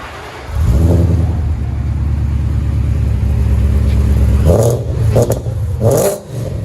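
Ford Mustang GT 5.0 Coyote V8 fitted with headers revs loudly up to a sustained, steady rumble held for several seconds, then gives a few sharper blips near the end.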